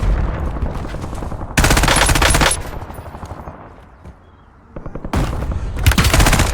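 FFAR rifle fire in a video game: two loud, rapid full-auto bursts separated by a brief lull with a few scattered shots, all close and dominant, no talking.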